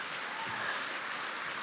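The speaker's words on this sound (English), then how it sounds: "That gets a round of applause" Steady round of applause from a Comic-Con panel audience, a dense even wash of clapping that holds at constant level throughout, with no pauses or single claps standing out.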